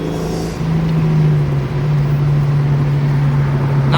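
A Ford Mustang with about 180 horsepower revs hard from inside the cabin, its engine tone climbing steadily, then dipping briefly at a gear shift and climbing again, loud and continuous with no talk.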